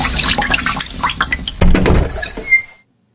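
Water runs and splashes in the Sakura School Simulator video game, a noisy gushing with thunks and drips that cuts off abruptly near the end, heard close and alone.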